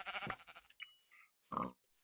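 Sheep bleating in a video game, a few short bleats set apart by brief pauses, heard alone at moderate loudness.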